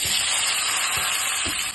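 Chopped onion and garlic frying in hot oil in a pan for a Bihari-style chicken dish, a steady close hiss and sizzle with a few faint soft stirring bumps, no talking.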